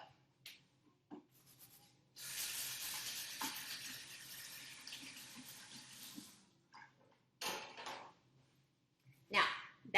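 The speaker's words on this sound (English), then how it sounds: "So I'm going to wash my hands real quick." Hands being washed at a kitchen sink: a few seconds of running water with rubbing, close and moderately loud, followed by brief splashes and handling noises.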